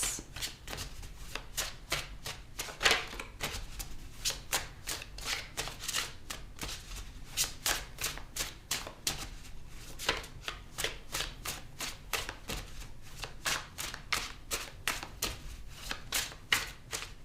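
Tarot cards are shuffled continuously for about seventeen seconds, a dense, rhythmic run of crisp riffling flutters and slaps close up, with no talking.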